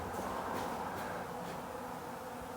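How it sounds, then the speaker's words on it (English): Dense, steady buzzing of many bees swarming and robbing around a shed door, a continuous close hum with no talk. "See the bees around the door at the shed here."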